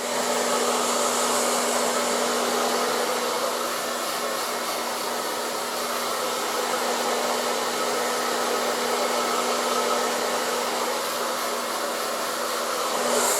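ETI Turbodryer professional hair dryer running on high heat and high speed, a loud, steady airflow roar with a constant motor whine, unbroken for the whole stretch with no talking.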